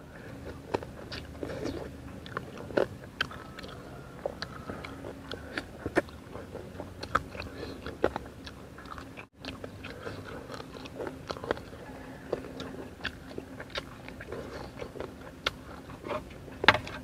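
Close, wet chewing and occasional crunchy bites of spicy boiled frog soup, steady and intermittent over a low, constant background murmur.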